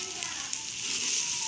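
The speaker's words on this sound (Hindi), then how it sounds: "भिंडियां भी है फ्राई करनी है" Okra frying in a home kitchen pan, a steady bright sizzle that holds close and even throughout with no speech over it.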